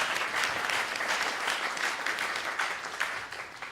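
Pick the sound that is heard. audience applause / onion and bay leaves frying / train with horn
audience applause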